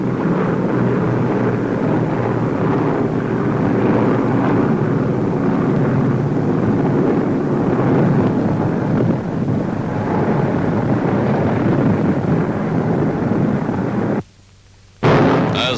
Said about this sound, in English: Bombers and fighters pounding and strafing the Axis columns